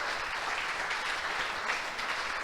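A church congregation claps together in a continuous, moderately faint burst of applause that fills the room with even, overlapping hand claps.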